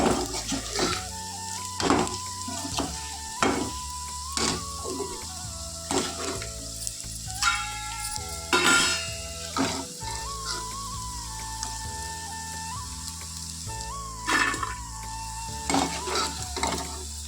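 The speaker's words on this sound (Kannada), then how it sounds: "ಇಷ್ಟು ಫ್ರೈ ಆದರೆ ಸಾಕು" Vegetables fry in a home kitchen pan, with a steady sizzle broken by repeated sharp scraping and clattering strokes as they are stirred, fairly close and loud, with no voices.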